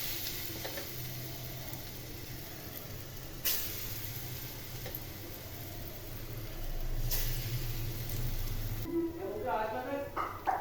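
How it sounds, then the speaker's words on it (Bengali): Neem flower fritters fry in hot oil, a steady crackling sizzle with occasional louder bursts, as a voice talks quietly alongside. "এখন আমি এই নিম ফুলের বড়া ভেজে নিচ্ছি। তেল গরম করে নিয়েছি"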